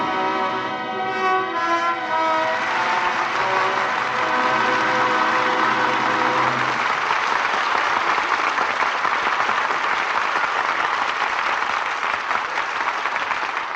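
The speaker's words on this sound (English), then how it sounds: "Well-deserved applause for an exciting performance by our 2 stars, Alan Ladd and Veronica Lake" Live radio play audience applauding after a film noir performance, steady dense clapping filling the whole stretch, with a sustained music chord underneath for the first several seconds before it drops away.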